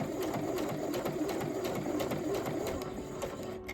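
A sewing machine stitches a seam on a quilted placemat, its steady rapid needle chatter running loud and close for several seconds before easing off near the end.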